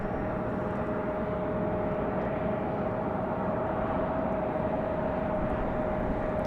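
A Delta Connection CRJ regional jet operated by Endeavor departs Raleigh-Durham airport in the evening, its broad steady engine roar filling the air with a sustained whine running through it, continuous and fairly distant, with no talking.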